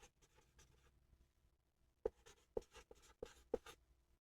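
Marker or pen writing a label on an airspace diagram, a few short squeaky strokes in quick succession, close and fairly quiet, with no talk.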